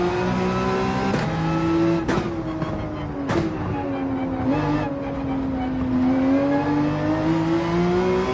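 Race car engine in Gran Turismo 7 held at full throttle, a loud steady roar with rising pitch, broken by quick gear-shift dips.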